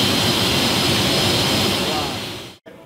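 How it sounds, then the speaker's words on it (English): Stock sport motorcycle on a dyno at a performance shop, one of a 2016 Kawasaki ZX-10R, Ninja H2 or 2015 Yamaha R1: a loud, sustained high-rpm engine scream held flat and then cut off abruptly near the end. "So we had 3 stock bikes dynoed here today, Brock."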